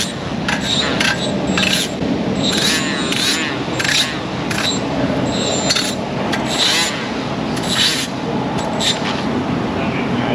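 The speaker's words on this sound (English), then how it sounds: "I'm going to wire brush them, deburr them just a tiny bit." A wire brush scrubs and deburrs brake caliper slide pins in an auto repair shop, with rapid rhythmic scraping strokes under a steady background hum.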